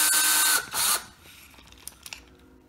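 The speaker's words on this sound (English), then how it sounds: "We used those two to pilot the reamer. It cuts in reverse and we reamed that hole." Reamer driven in reverse to cut a hole in a Holley carburetor body during throttle shaft repair, a loud power-tool whir for about a second, then quieter scraping and a few small sharp clicks.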